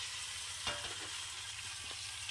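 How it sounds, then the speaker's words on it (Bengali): Amla being stirred in a pan with melting jaggery, with a soft, quiet sizzle and a few faint scrapes of the spoon, close and low in level, with no talking. "গুড়টা গলছে নিচে আর আমি নাড়াচ্ছি"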